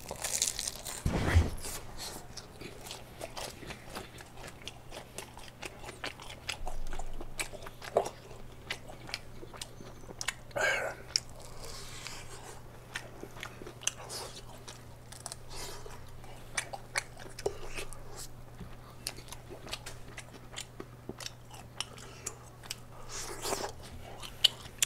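Close crunchy bites and chewing of fried chicken with potato and snow cheese topping, repeated sharp crunches and wet mastication scattered over the whole span, with occasional paper crinkling and no talk.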